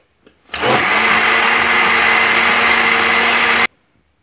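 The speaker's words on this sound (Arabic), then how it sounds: "نعاود نطربو." An electric mixer beats chocolate cake batter made with oil, running loud and steady for about three seconds before cutting off abruptly.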